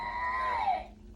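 A baby girl's whiny, high fussing cry rises and trails off over about a second, fairly close and alone.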